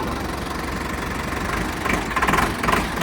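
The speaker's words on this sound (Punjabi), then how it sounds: "ਸਟਾਰਟਿੰਗ ਕਰੋ ਚੈੱਕ ਕਰ ਟਰੈਕਟਰ ਦੀ ਓਕੇ ਹੈ ਟਰੈਕਟਰ" A Sonalika 750 tractor engine starts and idles steadily with a low, rumbling knock, growing slightly rougher and louder toward the end, with no voices.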